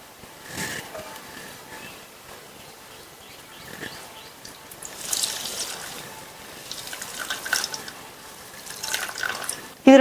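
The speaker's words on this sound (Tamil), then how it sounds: "இப்போ நம்ம பிழிஞ்ச இந்த பூசணிக்காய் துருவலை இதில் சேர்த்துட்டு நல்லா இதில் உள்ள ஜூஸை பிழிஞ்சு" Juice squeezed by hand from grated pumpkin through cotton cloth, soft irregular trickling and dripping with wet squishing bursts, fairly faint and close.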